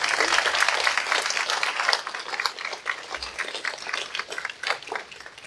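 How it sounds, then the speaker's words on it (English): An audience at an aviation fly-in awards dinner claps in a dense, busy burst that stays lively for several seconds, with scattered louder claps near the end and faint voices mixed in. "Could we have a quick round of applause for the folks?"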